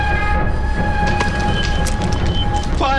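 A train with railway wagons rolls past close by in a loud, continuous rumble, with a steady whine and a brief high squeal near the end.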